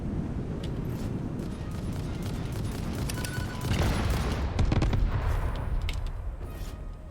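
Rumbling explosions and blasts in the factory-building video game Satisfactory, a dense continuous barrage of booms that swells louder midway through, with no talking.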